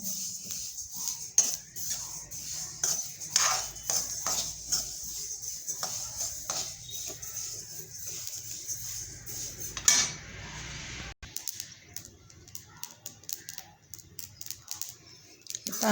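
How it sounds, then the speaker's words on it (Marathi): Sharp irregular crackles and pops of sesame seeds sound close up over a steady high sizzle, with occasional metallic scraping, as they roast in a hot pan. "मस्तपैकी तीळ तडतडत आहेत म्हणजे आपले तीळ खरपूस असे होत आहेत"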